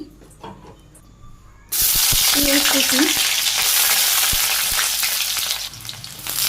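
Green chilies hit hot oil in a village kitchen, breaking from a quiet room into a sudden loud, steady frying hiss that roars on close by for several seconds, with brief clatter and no talk.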